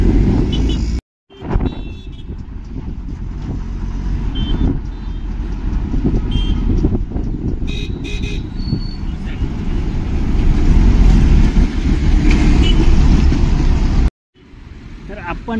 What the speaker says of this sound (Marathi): तर हा आहे वलसाडचा बस स्टँड